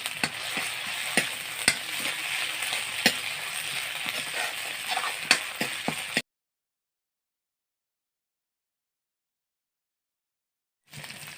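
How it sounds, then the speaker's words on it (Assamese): Raw turmeric fries with browned onions in a pan, a dense close sizzle with frequent sharp scraping stirs, cutting off abruptly into silence before resuming briefly at the end. "ইয়াতে মই কেঁচা হালধিখিনি দি দিম আৰু এতিয়া ধুনীয়াকৈ ভাজি ল'ম ৩-৪ মিনিটমান সময়"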